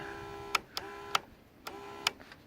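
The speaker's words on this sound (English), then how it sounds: "This one back here is fuel pump." A small electric fuel pump on a mower hums with a steady whine, broken by a few sharp clicks at irregular intervals, heard close by with no talking.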